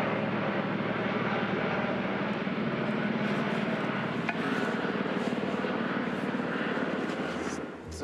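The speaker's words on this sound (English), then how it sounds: "So we've got that chopper flying over" A helicopter flying over gives a steady, broad engine and rotor roar that stays loud and near for the whole stretch, easing off slightly at the end, with no talk over it.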